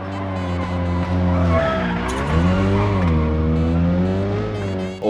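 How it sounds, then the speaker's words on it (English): A rally car in the WRC 10 video game skids with a sustained, wavering tire squeal over a steady engine drone, loud and continuous for several seconds. "And other sounds like skidding"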